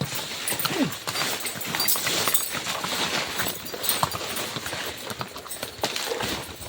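A horse hauling a load of coconuts in Tayabas, heading down a slope with braking: steady clip-clop of hooves at moderate distance, mixed with light rattling and clinking from the load.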